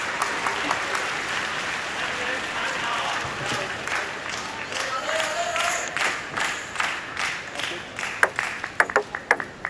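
An audience applauds steadily at a Paralympic table tennis match in Paris, and sharp ball pings and scattered claps grow louder toward the end, with faint talk underneath.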